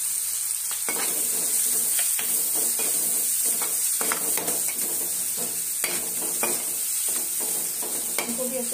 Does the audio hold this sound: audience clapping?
no